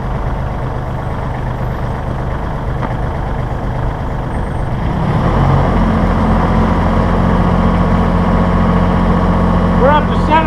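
Massey Ferguson 1700E compact tractor fitted with a CB75 backhoe, its diesel engine running steadily and close, then revving up to a louder, heavier drone that holds through the rest of the clip.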